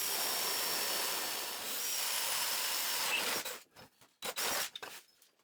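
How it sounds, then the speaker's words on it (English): A hand drill whirs steadily into a wooden workbench for about three seconds, then gives way to a few short bursts and pauses, close and fairly quiet. "it's finally time to drill onto my workbench"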